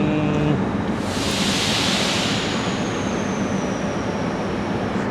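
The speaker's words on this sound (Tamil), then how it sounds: "ட்ரெயின் நிற்கிது" Old Soviet-era metro train pulling into a station on the Russian metro, a loud steady roar of wheels and rumble filling the whole stretch, with a faint high squeal of brakes drawn out across it.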